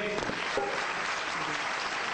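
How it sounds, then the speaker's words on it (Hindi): An audience claps steadily, a dense wash of applause that holds at an even level from start to finish. "बहुत बहुत जोरदार तालियां आप सबों के लिए बजाइए खुद होके"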